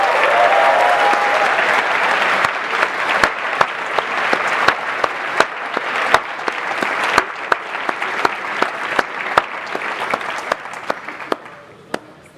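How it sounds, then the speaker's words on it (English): Audience at the Formula Student 2023 awards ceremony breaks into loud, sustained applause, a dense wash of clapping with sharper individual claps, including a few solo claps as it tapers off near the end. "Give them a massive round of applause, please."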